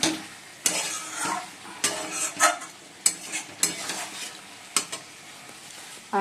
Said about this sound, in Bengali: এই যে বন্ধুরা চিকেনটা কষানো হচ্ছে, এখন আলুও দিয়ে দিয়েছি।